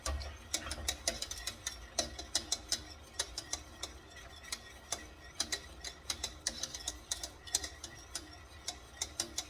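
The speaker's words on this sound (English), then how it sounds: "So now I'm going to turn my stove on." A gas stove igniter clicks repeatedly as the burner is turned on in a home kitchen, sharp rapid ticks in an uneven run, close and fairly faint, with no speech.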